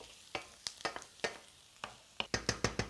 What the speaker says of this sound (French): On fait donc ensuite revenir l'ail et les échalotes dans une poêle bien chaude